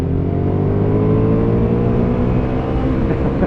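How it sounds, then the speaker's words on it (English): A Honda motorcycle with standard exhaust accelerates hard, its loud engine drone rising steadily in pitch, close and continuous with no pauses. "the standard exhaust on this sounds fruity"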